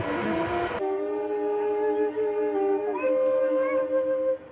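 A train at a station sounds a long tonal horn that shifts pitch partway through. The horn is loud and sustained, and a brief burst of noise comes first.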